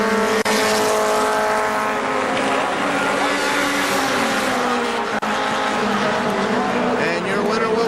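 Race trucks roaring around KilKare Speedway on the final lap of a Labor Day race, loud sustained engine howl with pitch shifting as they pass, under a faint public-address voice.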